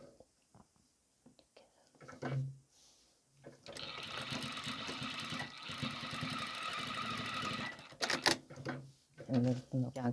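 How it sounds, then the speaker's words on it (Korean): A sewing machine stitches fabric for a strappy slip dress made as loungewear. A continuous close run of rapid mechanical whirring lasts several seconds, with soft speech and handling noises before and after it. "이렇게 해서 박음질 하면 되죠."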